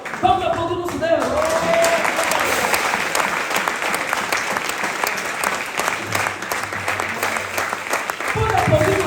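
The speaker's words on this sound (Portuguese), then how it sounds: "Vamos aplaudir o nosso Deus." A church congregation breaks into sustained, dense applause that fills the room from start to finish, loud and even, with a voice speaking over it briefly at the start and again near the end.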